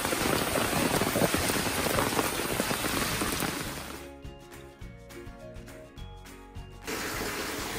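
Monsoon rain pours steadily on the ground and surfaces while someone walks outdoors past village paddy fields. The downpour is dense and continuous, and it thins briefly partway through before returning at full strength.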